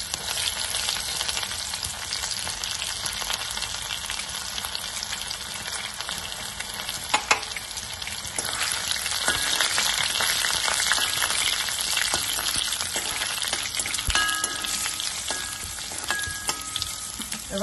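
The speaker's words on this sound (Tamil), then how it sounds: "வெங்காயம் நல்லா வதங்கி வாசனை வந்துருச்சு." Small shallots fry in hot oil with dried red chillies and curry leaves for rasam, a dense, continuous sizzle that holds steady close up, with a few faint stirring clinks and no voices.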